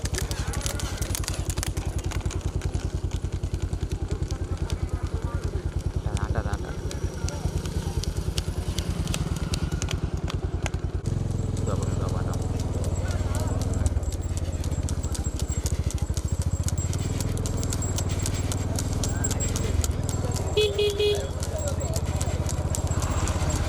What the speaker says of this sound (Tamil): பின்னாடி 3 மாடு வருது அழகா.